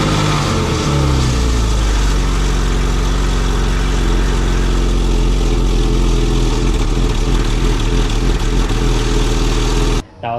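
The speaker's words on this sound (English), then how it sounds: "I'm gonna turn on the car and see if that fixes it" Porsche engine turned over and left idling, a steady loud low rumble with dense mid-range drone running unbroken for about ten seconds before cutting off abruptly at the end.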